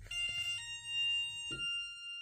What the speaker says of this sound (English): And yes, there's even a buzzer with fun sounds,